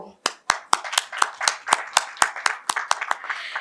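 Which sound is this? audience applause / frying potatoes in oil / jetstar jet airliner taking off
audience applause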